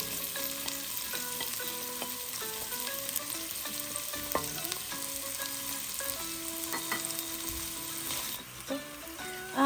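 White onion hitting a hot pan with shrimp, a bright steady sizzle with clinks and scrapes of a utensil against the pan throughout, no talking.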